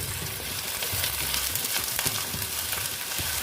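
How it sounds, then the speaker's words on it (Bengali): Potato pieces frying in a pan for a Bengali ridge gourd vegetarian dish, a continuous close sizzle with scattered crackles and pops and light stirring clinks, heard alone without talk. "আলুটা আমি একটু ভেজে দেব"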